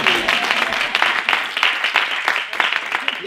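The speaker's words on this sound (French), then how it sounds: "On va applaudir Goliath." Audience applause at a church event, with a steady wash of clapping running throughout and brief voices mixed in.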